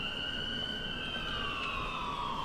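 An ambulance siren in Grand Theft Auto IV wails continuously with slow, sweeping pitch, steady and fairly prominent over a dense background of game noise.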